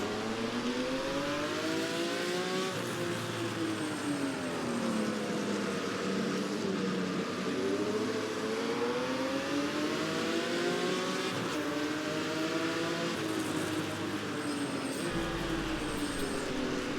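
Engine of a Jaguar XJ13 race car sounds steady and loud throughout a lap against Ferraris and Lolas, its note swooping repeatedly as the car brakes for corners and accelerates again, with only a brief low thump near the end.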